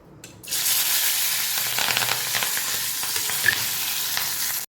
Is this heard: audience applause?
no